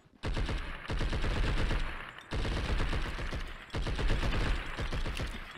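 Video game gunfire in Blood and Bacon: three long bursts of rapid automatic fire, loud and close, separated by brief pauses with no talking.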